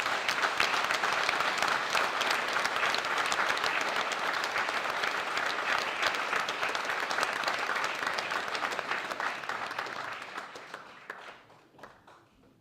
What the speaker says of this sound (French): je vous demande d'applaudir Madame Marie-Noël de Donquel